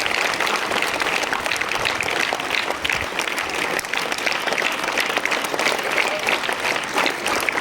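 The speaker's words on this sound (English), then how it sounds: "Give a huge round of applause." Applause at a school award ceremony as an award goes to the principal; loud, dense clapping from a large crowd, sustained evenly for the whole stretch.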